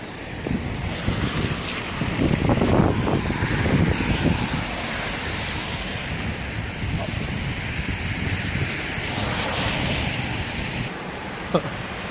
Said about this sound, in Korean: 비가 오질라게 오긴 한다